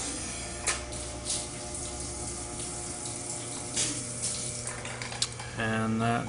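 Coolant pouring and splashing on an old Acroloc CNC machine, a steady close water rush with light clatter, switching to a pump's louder hum near the end.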